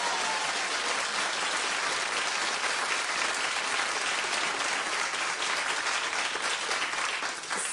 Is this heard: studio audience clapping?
yes